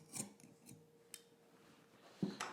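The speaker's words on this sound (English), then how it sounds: "take your scissors and trim down the loop" Scissors trim a fabric loop during sewing of pleated pants, giving a few quiet, crisp snips with a sharper cut near the end.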